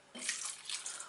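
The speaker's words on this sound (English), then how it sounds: "because now we will be adding vinegar and salt." Vinegar poured from a glass into a jar of bottled beans and carrots, a brief close liquid splash and trickle with no talk.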